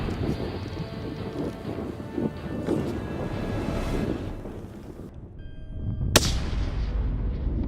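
A rifle shot fired while hunting mule deer in open country, heard as a single sharp report that echoes away, following stretches of wind rumble and faint outdoor noise.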